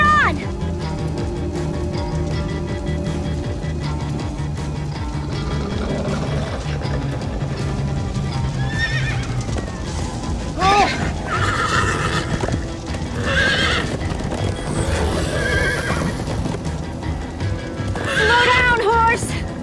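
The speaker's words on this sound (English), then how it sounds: "Slow down, horse!" A horse in the Minecraft Story Mode video game neighs repeatedly over steady clip-clopping hooves and background game music, with several whinnies later on and characters talking in between.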